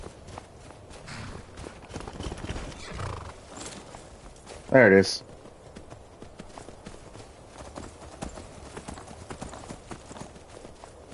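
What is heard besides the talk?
horse hooves and neighing in Skyrim video game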